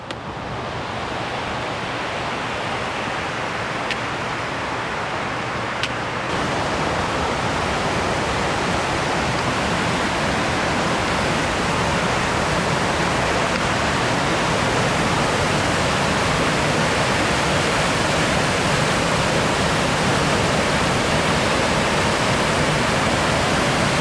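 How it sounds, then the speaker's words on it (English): Horsetail Falls pours as a steady, loud broadband roar of falling water in winter, close and unbroken for the whole stretch, with no voices over it. "We're coming around the corner to Horsetail Falls now."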